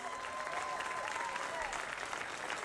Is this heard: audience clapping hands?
yes